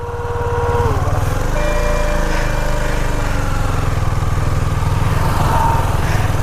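A Bajaj Pulsar motorcycle engine runs loud and close throughout, with a steady, throbbing low drone that revs slightly at times and has no voices over it.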